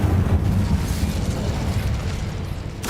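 Fire spell cast in a Hogwarts video game, a loud continuous whooshing, roaring burst of flame that fills the whole moment without any talk.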